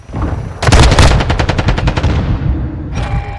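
A rapid automatic burst of gunfire in Modern Warfare 2 during a hardpoint match, loud and close, with about a dozen evenly spaced shots trailing off, followed by a brief extra report.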